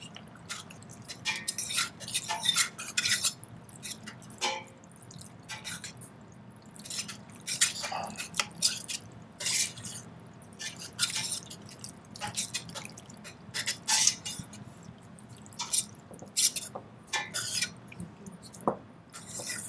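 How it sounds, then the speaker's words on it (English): Macaroni and cheese being stirred in a pot, with soft wet squelching and dripping sounds repeating in irregular bursts at moderate loudness, no talking over it. "And then Abby is going to be stirring this."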